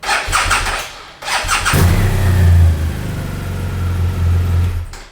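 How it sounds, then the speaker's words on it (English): A motorbike engine cranks, then catches and settles into a loud, steady low idle with slight revving, recorded up close with no talking. "at this point I should be able to start the engine"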